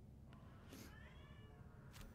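A cat meows near a microphone during a live Helldivers 2 game stream, giving a couple of short faint calls over low background hum.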